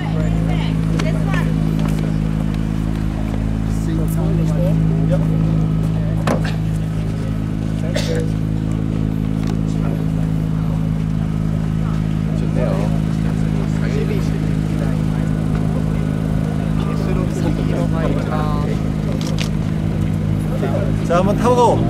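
A Honda NSX sports car drives at the Honda R&D Center test grounds in Tochigi, Japan, its engine a steady broad hum with faint revving, heard from outside with some background chatter.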